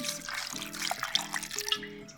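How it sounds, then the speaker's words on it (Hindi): Water splashes and trickles into a blender jar holding coconut pieces, a short bright pour of about two seconds with steady gurgling close by. "अब इसी के साथ इसमें पानी डालेंगे थोड़ा सा"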